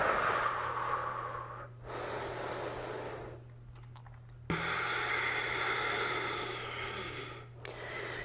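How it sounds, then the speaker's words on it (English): Slow, deep Ujjayi breaths drawn in and pushed out through the throat during a held chair pose in a slow-flow yoga class, each long airy inhale and exhale close and audible over a steady low hum. "Take your deep Ujjayi breaths here"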